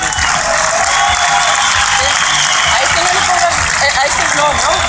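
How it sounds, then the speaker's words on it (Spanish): A crowd applauds loudly and continuously at the award ceremony podium of the 51st Rally Rías Baixas, dense clapping and cheering with faint background noise throughout. "Un aplauso para ellos."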